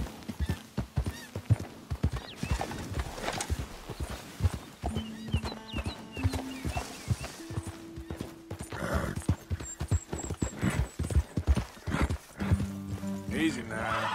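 Horse hooves clip-clopping at speed with a whinny in Red Dead Redemption 2, rhythmic thuds up close, with game music tones and a rider's voice over them.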